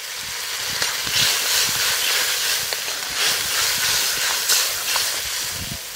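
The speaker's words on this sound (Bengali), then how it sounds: "ঝোলটা সুন্দর ফুটে উঠছে" A pot of fish curry with mustard greens boils on the heat, giving a steady bubbling hiss with small irregular pops throughout.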